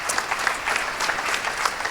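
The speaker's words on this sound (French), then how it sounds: "vous pouvez l'applaudir" Applause from a conference audience at a talk on the metaverse, a moderate crowd clapping with individual claps standing out, steady throughout.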